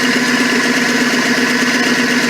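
A Ford 306 engine idling in a Ford tug, a steady, even rumble with a low hum that holds constant, close and loud, with no voices.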